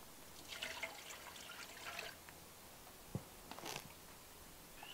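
Tap water, two and a quarter cups, poured for simple survival bread dough; a soft, close trickle and splash comes in uneven bursts over a few seconds, faint and without talk.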